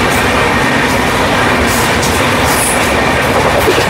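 The 22897 Kandari Express runs from Howrah toward Digha, heard from on board as a loud, constant rumble of wheels on the rails with a steady rattle and clatter and no pauses.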